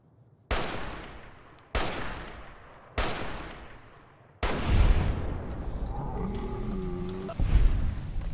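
Three loud, evenly spaced sniper rifle shots in Fallout: New Vegas, each with a decaying tail, followed by a heavier blast and rumbling aftermath with a brief tonal sweep.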